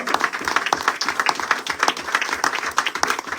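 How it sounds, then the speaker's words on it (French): A church congregation at a Sunday worship service applauds to welcome a reverend evangelist: sustained, lively clapping from many hands, close and even, with no voice over it. "sous vos applaudissements, nous sommes en train de recevoir le révérend évangéliste Claude"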